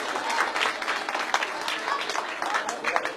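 Audience applause at a Pakistan Muslim League (N) political gathering in Lahore, a steady dense clapping from a crowd that holds throughout without breaks.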